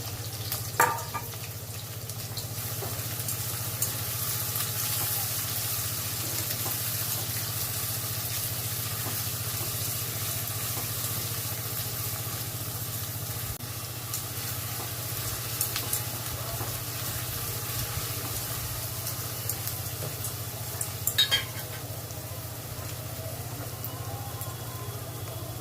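Chopped onion fries in a pan with whole black peppercorns, giving a steady, close hiss and sizzle that carries on for the whole stretch, with a few faint clinks of stirring and no talk.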